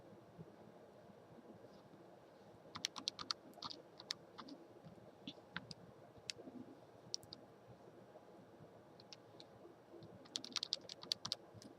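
Faint keystrokes tap on a computer keyboard in short irregular clusters and scattered single clicks against a quiet, steady room background.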